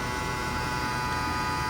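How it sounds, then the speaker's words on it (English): The AC compressor of a 2012 Toyota Prius runs hard, giving a steady, loud mechanical hum with a constant buzzing drone that does not change. "This is the noise of the compressor."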